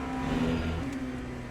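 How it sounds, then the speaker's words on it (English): An unrestricted European Le Mans Series LMP2 race car in the Le Mans Ultimate racing game pulls out of the pits, its engine droning in steady tone and rising slightly, moderately quiet and without talk. "the first thing that you notice about it immediately is how it revs"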